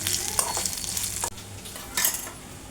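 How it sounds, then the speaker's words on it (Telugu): Garlic cloves and red chillies frying in a pan while being stirred, a close crackling sizzle with scraping surges that briefly drop out and return. "తెల్లుల్లి రెబ్బలు అనమాట. వేసుకొని ఇలాగా ఫ్రై చేసుకోవాలి."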